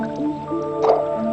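Water drips and squishes from a drip irrigation line in a short close burst, a wet splat over a low steady hum.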